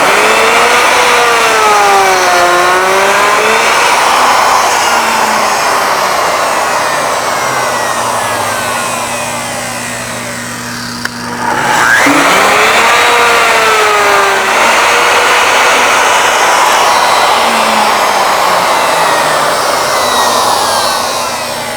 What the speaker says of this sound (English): Now you can see we've cut our 3 evenly spaced flutes 1 inch apart